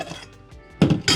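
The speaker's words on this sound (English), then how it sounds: "A couple of plates." Plates clinking and knocking together while dishing up slow-cooked beef cheeks at a campsite, a few soft taps followed by two louder close clattering handling sounds.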